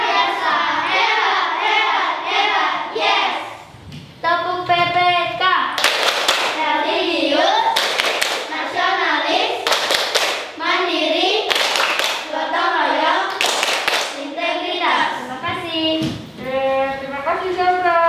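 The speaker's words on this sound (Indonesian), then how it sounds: "Tepuk PPK" Elementary school children at SDN 23 Muara Sabak chant together in a classroom, punctuating the words with loud rhythmic bursts of group hand claps, repeated in patterned sets throughout.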